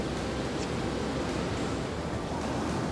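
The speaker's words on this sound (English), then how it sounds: "We're right by the ocean, guys." Ocean waves wash steadily at a Florida beach during a wedding trip, a constant broadband surf roar with wind buffeting the microphone, loud and continuous with no breaks.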